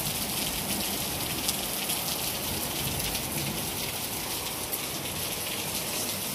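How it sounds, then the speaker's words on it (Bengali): Heavy rain pours down steadily and loudly, a dense hiss of drops striking surfaces close by with no distinct thunderclap standing out. "প্রচন্ড জোরে বৃষ্টি হচ্ছে আর আকাশ ডাকছে,"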